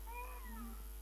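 A cat gives one drawn-out meow with a wavering pitch, close and fairly quiet against a steady low hum, in an old Hindi film scene.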